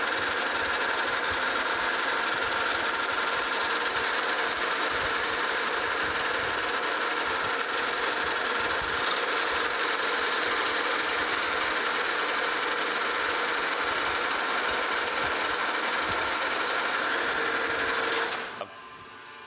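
A lathe takes a facing cut across a metal drive shaft bracket for a Kearney & Trecker lead attachment, a steady loud machining drone that holds without letup for about eighteen seconds before cutting off near the end.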